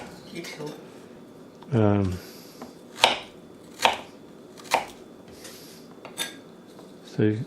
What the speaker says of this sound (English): So ginger, just cut it up into